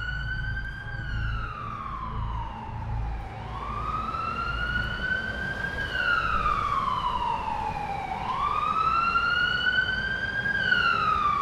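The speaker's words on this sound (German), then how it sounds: "dieser mit Sirenengeheul davonfuhr" A police car siren wails in long rising and falling sweeps over a low vehicle rumble, staying loud and steady as the car drives off.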